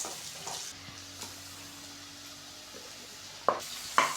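Onions and tomatoes fry in oil in a pan and get stirred, a low steady sizzle with occasional scrapes and two sharper utensil clicks near the end, with no one talking.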